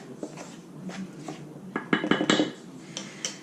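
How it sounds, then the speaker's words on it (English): Salt and garlic powder being gently stirred in a bowl, with a utensil clinking and scraping against the sides in a quick, irregular cluster of taps that grows busier midway, and no talking. "Just kind of gently stir that so it's mixed up a little bit."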